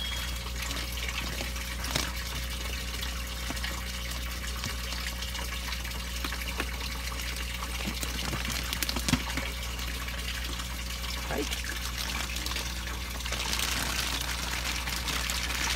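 Fresh water is poured steadily into a container holding newly released black giant and red tilapia fingerlings, giving a continuous rushing splash with a low rumble and a few soft knocks.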